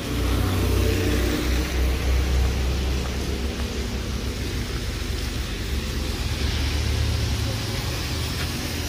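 A car passing on a rain-soaked street in Mirpur, Azad Kashmir, its engine rumble and tyre hiss swelling and easing over a constant wash of rain noise, with a person speaking nearby.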